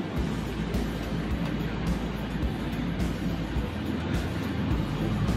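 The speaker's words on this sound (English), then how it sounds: "This one is chiller compressor number 1." A chiller compressor in a plant room runs with a steady, dense mechanical rumble and broadband hum, with occasional faint clicks over the continuous drone.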